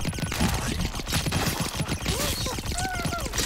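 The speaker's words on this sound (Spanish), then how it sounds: "qué rápido disparo" Rapid gunfire in the Blazing Beaks video game, a dense stream of quick repeated shots rattling continuously over game music and chirpy effects.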